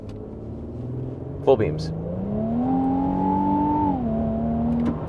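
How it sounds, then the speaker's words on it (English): A 2025 Infiniti QX80 accelerates in sport mode on a straightaway, the engine note rising steadily in pitch, holding, then easing off, heard from inside the cabin while a person talks briefly. "Quite a big loud engine sound, you know, not a lot of exhaust noise coming out of here."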